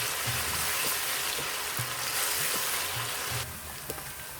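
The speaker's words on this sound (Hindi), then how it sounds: "अब इसमें मैं लहसुन अदरक की पेस्ट डालूंगी, मिक्स करेंगे अच्छी तरह से" Garlic-ginger paste frying with lightly browned onions in a pan, giving a steady, dense sizzle that lasts the whole time. A few soft clinks of stirring come through, and the sizzle drops slightly near the end. No one speaks.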